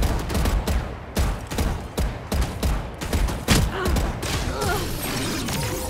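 Bursts of gunfire from a shooter video game ring out in quick volleys of sharp shots with thuds between them, loud and close over steady game ambience.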